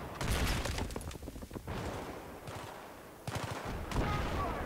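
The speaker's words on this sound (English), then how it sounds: "Is it gonna keep shooting me?" Bursts of rapid automatic gunfire in Battlefield 3 crackle loudly and close, coming in dense volleys separated by short pauses, fired at the player.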